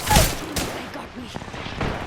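Video game gunfire: several loud close shots and bursts crack out irregularly, with fainter shots between and game voices talking.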